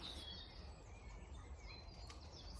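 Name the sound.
birds singing in spring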